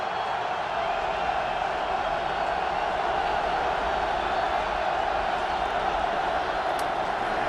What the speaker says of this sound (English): This crowd is alive.